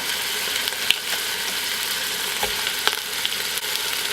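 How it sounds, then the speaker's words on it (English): Beef browns in an Instant Pot, giving a steady, close sizzle with occasional small pops and scraping clicks throughout, and no voices. "browning the meat in there, and that's gonna take about 5 to 10 minutes on each side"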